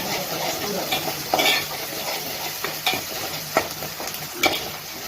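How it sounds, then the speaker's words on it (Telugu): Finely chopped tomatoes go into hot oil with ginger and garlic for a Nellore country chicken curry, sizzling steadily while a spoon scrapes and clinks against the pan in sharp intermittent knocks. "ఇప్పుడు టమాటాలు వేసేస్తామండి."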